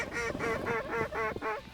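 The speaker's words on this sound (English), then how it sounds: "I hear cranes." Cranes call in a loud, rhythmic series of about six honking, trumpeting notes, close and clear at a cold-weather duck hunt in the Dakotas.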